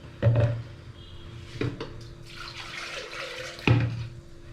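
Water is poured into a pot of coconut rice in three short splashing bursts over a quiet background, close to the pot.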